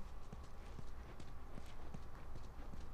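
Steady clip-clop of a horse's hooves in the video game The Last of Us, an even walking rhythm that stays moderately loud throughout with no talking over it.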